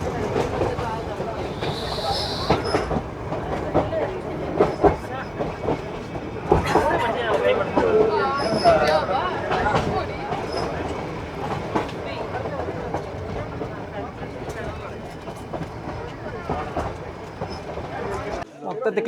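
The Nilgiri Mountain Railway toy train runs on the Mettupalayam–Ooty line in rain and mist, giving a continuous rumble with rhythmic clickety-clack of wheels under steady nearby conversation.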